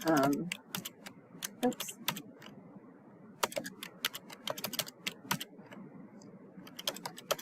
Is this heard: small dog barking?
no